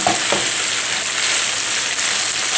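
Gobi manchurian, cauliflower tossed with red chilli sauce and ketchup, sizzles loudly in a pan while it is stirred. A constant close frying hiss carries a couple of soft stirring scrapes near the start.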